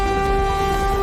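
A cartoon train nears on the railway track with a loud, steady sustained horn tone over rumbling noise, close and constant throughout.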